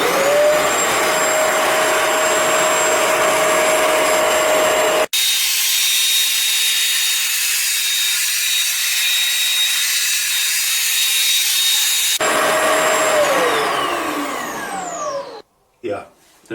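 A BISSELL ProHeat 2X Revolution Pet Pro upright carpet cleaner makes dry passes over carpet, a loud steady motor whine and suction roar with pitch shifts, then cutting off near the end.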